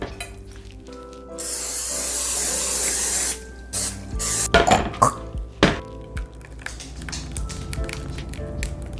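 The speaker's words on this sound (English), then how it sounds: "I'm gonna spray it down with a little bit of olive oil spray" A steady hiss of olive oil cooking spray on a casserole dish lasts a couple of seconds, then clinks and clatter of the dish and utensils being handled.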